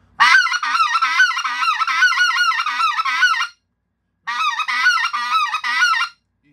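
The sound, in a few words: specklebelly goose call being blown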